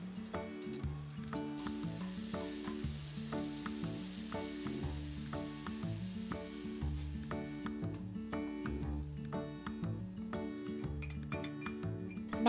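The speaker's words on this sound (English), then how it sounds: "Continuously stir until the pork cooks all the way." Ground pork seasoned with ground white peppercorn is stirred continuously as it cooks in a pan, giving a steady sizzle with metal utensil clinks and scrapes under background music.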